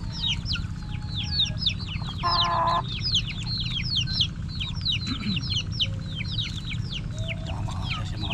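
Rhode Island chickens cluck repeatedly in quick, overlapping bursts at a roadside spot, fairly close, over a steady low rumble of background noise, with a short tonal call rising briefly among them.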